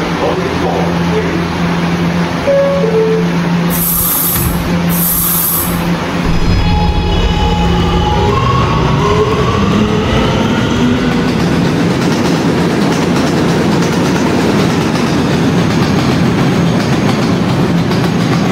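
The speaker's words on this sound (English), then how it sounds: "This is a Ridgewood Island bound R train via the N line." An R211A subway train in a Roblox game runs steadily, a loud continuous rumble with rising motor whine and rail clatter, plus a couple of brief high chimes early on.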